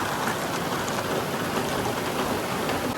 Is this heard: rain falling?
yes